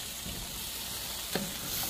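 Pepper steak beef strips being tossed through a thickened sauce in a pan, a steady close sizzle with a brief clatter of the utensil partway through.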